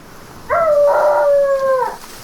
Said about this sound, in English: He's guarding the kennel, which... Right, we can pet the dog.